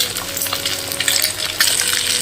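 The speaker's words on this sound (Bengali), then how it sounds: "এখন আমি আর একটু ডিমও ভেজে নিচ্ছি।" Eggs fry in hot oil in a pan with a loud, close, crackling sizzle. It carries on without a break and has a few sharper spatters.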